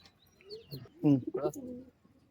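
Giribaz pigeons, a mated pair, give a few soft throaty coos close by, short rising calls bunched together, with a faint background murmur of a voice.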